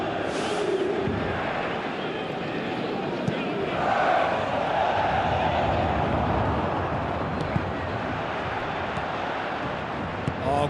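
Stadium crowd in a PES 2017 football match between AS Roma and PSG roars steadily throughout, a dense sustained wash of cheering with a commentator's voice occasionally over it.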